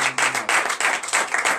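A church congregation claps in acclamation at a Friday night deliverance service, dense rhythmic clapping in steady bursts, loud and close, with no voices over it.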